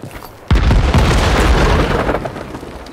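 Mortar shells explode in the video game Land Of War, a sudden loud boom that erupts into a dense, rumbling blast lasting several seconds and slowly tailing off.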